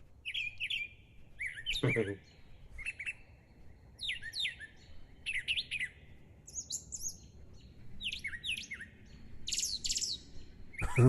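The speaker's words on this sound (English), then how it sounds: "Pretty bird." A bird sings a series of bright, chirping phrases with short pauses between them, clear against quiet outdoor background, with a brief low voice once.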